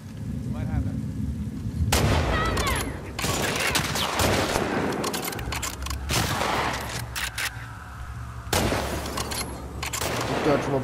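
Heavy bursts of gunfire in the video game The Last of Us Part 2, several loud volleys of rapid shots separated by quieter pauses, with distant rumbling between them and no clear talk.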